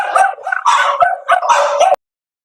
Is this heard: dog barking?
yes